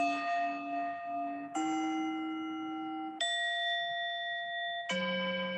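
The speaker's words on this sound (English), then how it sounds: "you can choose the type of sound you want for your interval bell." A meditation timer's interval bell sounds four sustained tones one after another, each struck cleanly and left to hum at a different pitch, close and clear with no talking.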